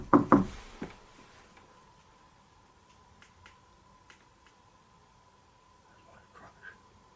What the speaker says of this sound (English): If I make a knock, can you copy me